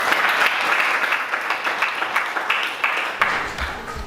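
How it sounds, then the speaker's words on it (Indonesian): Applause from a classroom audience, many hands clapping steadily and close for the whole stretch, with no speech over it. "Beri tepuk tangan buat video tersebut"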